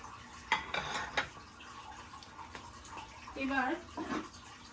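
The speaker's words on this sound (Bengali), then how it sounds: "তার আগে আমি একটু ভালোভাবে মেখে নিচ্ছি" Hilsa fish is mixed by hand with spices, including dry chili powder, for a steamed ilish bhapa dish. Close, wet squelching and clinking kitchen sounds come in short bursts, with a brief voice partway through.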